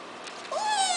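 Lucky the cat gives a single whining meow that rises and holds, close and fairly loud over a quiet room.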